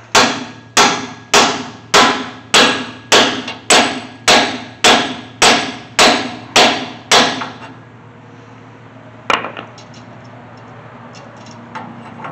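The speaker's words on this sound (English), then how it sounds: "Now I'm not hammering this really hard. I'm giving it solid taps" A hammer delivers about a dozen solid, evenly spaced metallic taps, seating a part into the rear differential of a 1979 Chevy C10 short-wheelbase pickup, loud and close, then stops, leaving quiet shop ambience with one faint later knock.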